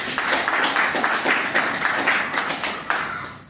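A crowd applauds steadily, a dense patter of many hands clapping that fades slightly toward the end.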